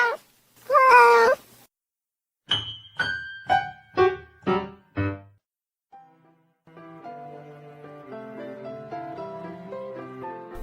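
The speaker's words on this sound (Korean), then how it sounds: "고양이 소리 들리시나요?" A cat meows in a clear series of short calls, first a drawn-out cry and then several quick meows in succession, heard alone and close before soft music begins.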